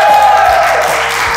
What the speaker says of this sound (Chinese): 掌声鼓励，Come on！